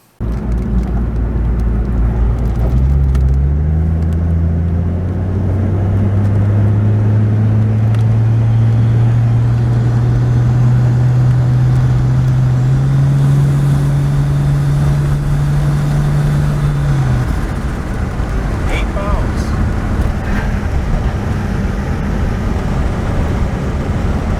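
A turbocharged 2JZ engine in a Toyota Aristo runs loud and close on a test drive, its note sweeping upward in pitch over a sustained rev, then dropping off, with no one speaking.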